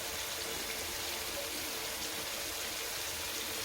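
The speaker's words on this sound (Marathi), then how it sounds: "चांगली उकळी फुटली" Steady, gentle bubbling and hissing from a pot of egg curry boiling close up, continuous and unchanging throughout.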